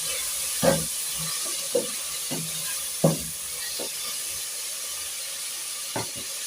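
A spoon knocks and scrapes through tomatoes in a cooking pot, making a handful of soft irregular clinks over a steady hiss of steam and simmering.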